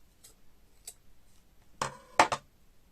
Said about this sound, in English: and cut the yarn